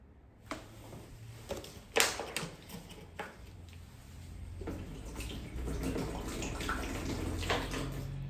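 Water splashes and pours into a window cleaner's bucket, starting with a few sloshes and building into a steady close-up stream.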